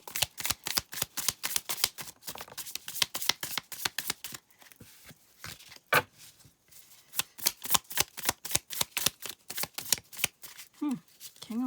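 Tarot cards being shuffled in quick, crisp riffling bursts, close and steady, pausing briefly mid-way before resuming, with a short spoken voice at the end.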